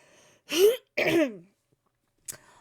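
Two throaty coughs in quick succession, close to the microphone, followed by silence and a faint click.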